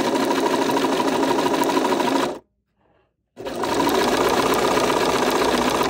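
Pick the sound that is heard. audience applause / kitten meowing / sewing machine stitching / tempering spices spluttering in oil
sewing machine stitching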